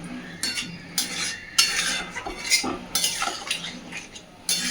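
Milk being stirred into a pumpkin curry in a pan, with repeated scraping and clinking strokes of a spoon against the pan, close and moderately loud, coming in uneven bursts.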